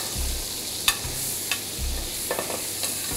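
A steak sears and sizzles in browning butter as it is basted, a steady hiss with soft clinks and scrapes of the spoon against the pan.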